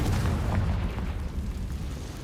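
The Confringo spell in Hogwarts Legacy bursts into a deep explosive boom at the start, then a rumbling tail that fades over about two seconds.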